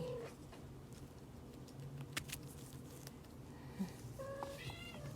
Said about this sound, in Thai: จะมีเสียงแมวร้องนะคะ